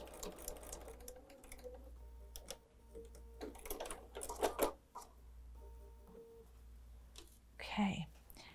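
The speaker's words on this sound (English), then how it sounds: "So we'll sew just straight down that line." A sewing machine runs in steady bursts while stitching a straight seam on a tote bag, its low motor hum starting and stopping between quiet handling clicks and brief soft speech.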